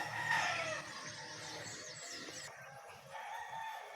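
Chickens at a Filipino household in early morning, crowing and clucking close by with a busy, continuous chatter of fowl throughout, no talk.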